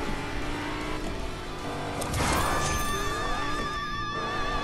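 Taxi vehicle driving across water in Fortnite, a steady engine drone with a splashing surge midway and wavering tonal hum, loud and continuous.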